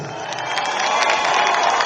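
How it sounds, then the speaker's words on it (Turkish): Crowd clapping and cheering at an outdoor community ceremony honoring a young boy, a steady dense wash of applause sustained throughout, fairly loud and close. "Evet kocaman bir alkış"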